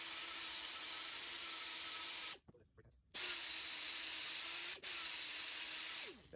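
A die grinder fitted with a gasket cleaner wheel scours overheated, glazed brake pads on a 1981 DeLorean DMC-12, giving a steady, loud, close hiss-like whir that cuts out once for about a second, then runs on with a short dip.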